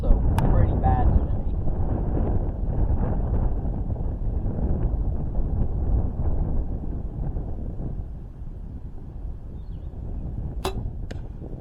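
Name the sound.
wind blowing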